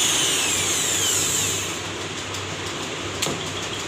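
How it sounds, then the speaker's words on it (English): A 1-inch square drive torque tool de-torquing, a loud continuous mechanical whir and grinding drone that eases slightly midway, with a brief sharp clack near the end. "a 1-inch square drive tool. This is de-torquing,"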